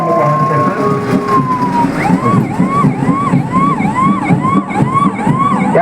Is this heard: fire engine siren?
yes